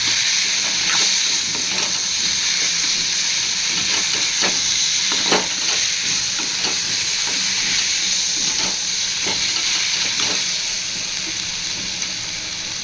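Onions with ginger garlic paste sauté in a pan for chicken kulambu, a constant bright sizzle and hiss broken by scattered crackles and soft stirring scrapes, close and continuous.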